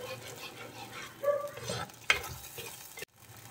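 Tuna curry masala sizzles and fries in a pan while a spoon stirs it, giving soft scraping and a sharp clink partway through, quiet and close with no talking.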